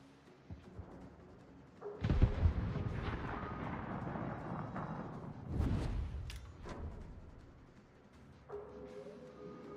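Warship gunfire in the video game World of Warships, heavy booming salvos with long rumbling tails, a big blast around two seconds and another near six, loud against quieter ambience.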